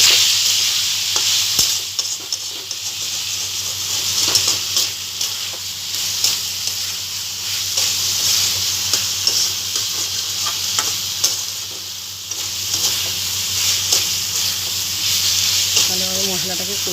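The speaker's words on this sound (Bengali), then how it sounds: "এবার আমি মশলাটা ভালোভাবে কষিয়ে নিচ্ছি" Spice paste for a prawn curry (law chingri) is stirred and fried in a pan, with steady sizzling and a spatula scraping in a continuous rhythm throughout, close and fairly loud, with no talk.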